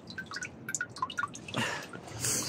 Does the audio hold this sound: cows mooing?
no